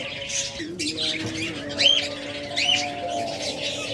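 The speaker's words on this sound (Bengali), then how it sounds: "আরেকটা ফিশার জোড়া রয়েছে এখানে দেখুন গ্রিন ফিশার" A pair of green Fischer's lovebirds lets out sharp rising squawks twice against a busy background of other cage birds chirping and a steady tonal hum.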